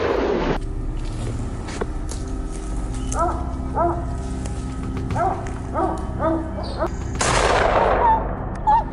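Gunfire blast from a hunting shot at a charging wild boar in a forest, one sharp broadband crack at the start and another burst near the end, over dogs barking repeatedly in the background.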